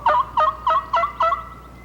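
A turkey hunting guide works a double-reed mouth call to imitate a turkey, giving five short, evenly spaced yelping notes, close and fairly loud, with no talk.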